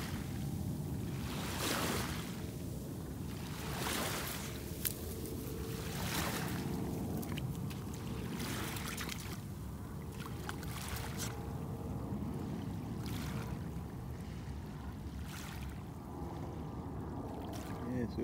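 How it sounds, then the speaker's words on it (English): Waves from a passing boat's wake wash in against the shore in steady surging rushes, broad and continuous with wind noise, fairly close, with no one talking over them. "Cause the boat just went by."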